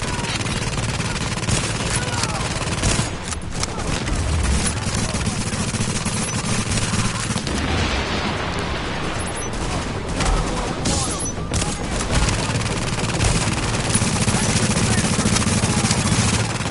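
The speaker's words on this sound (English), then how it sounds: "With all that gunfire drawing the Rikers' attention" Sustained, heavy automatic gunfire with rapid bursts and a droning rumble beneath, loud and continuous throughout, during a base operation mission firefight in a video game.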